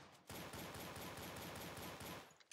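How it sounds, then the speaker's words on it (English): Rapid automatic gunfire rattles in a first-person shooter video game, a dense close burst of evenly spaced shots lasting about two seconds, loud and alone before cutting off abruptly. "there's more gunfire going on in here"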